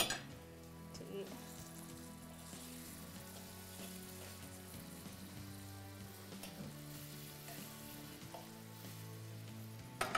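Liver frying in a pan, a faint continuous sizzle and crackle with a low hum underneath, heard close and steady without talk.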